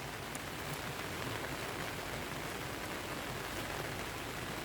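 Rain hits a tent in a steady, dense patter, soft and even, with no break and no voices.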